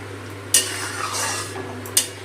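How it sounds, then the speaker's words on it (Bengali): Spoon scraping and stirring rohu fish curry gravy in a pan, with two distinct metallic clinks against the side over a low steady hum; no voices. "এখন এই সব কিছু দিয়ে আবার একটু ভালো করে কষিয়ে নেব"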